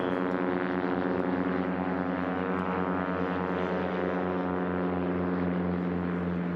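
A STOL airplane drones steadily on a dirt strip during a drag race, a loud continuous propeller and engine hum with strong low harmonics, close by and unbroken, with no talk over it.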